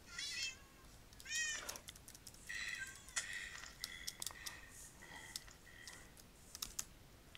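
A house cat meows a few times near the microphone, with light computer keyboard typing and clicking underneath between the calls.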